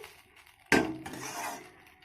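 A metal utensil clanks once against a pan, then scrapes softly as it stirs fried rice made from leftover cooked rice, in a quiet kitchen with no talking.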